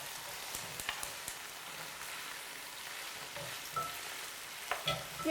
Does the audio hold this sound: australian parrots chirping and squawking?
no